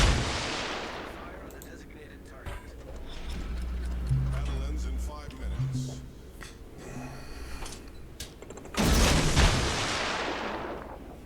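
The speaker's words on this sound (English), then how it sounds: "Give my cruiser a chance to get some shots on them." Naval gunfire from a cruiser in the World of Warships video game: heavy booming salvos with a deep low rumble, one at the start and another late, spaced apart, with engine-like drone between and a voice talking throughout.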